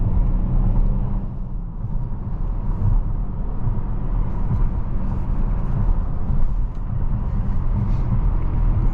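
A 2023 Mercedes-Benz GLC300 Coupé with a turbocharged four-cylinder engine while driving, heard from inside as a steady low rumble of engine and road noise, constant and fairly loud with no talk.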